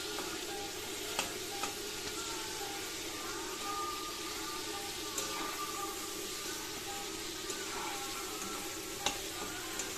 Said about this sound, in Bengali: এগুলো ভালোভাবে ব্রাউন কালার হওয়া পর্যন্ত আমি গ্যাসের আঁচটা কমিয়ে ভাজবো